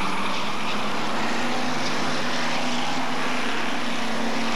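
Hotstox stock cars run down the back straight at Wisbech, a dense, continuous engine roar close by and fairly loud, holding steady without a break or any talk.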